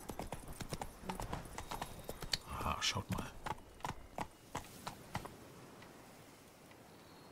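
Horse hooves clip-clop steadily during riding in the video game The Witcher 3: Blood and Wine, a rhythmic run of sharp hoofbeats that slows and fades toward the end, with someone briefly speaking over them.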